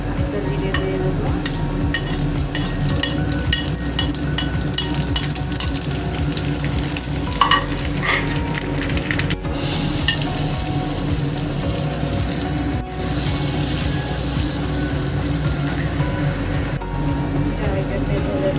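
Bay leaf and whole cumin seeds hit hot oil left over from frying aubergine, producing a loud, continuous close sizzle that swells in bursts, with some background noise mixed in.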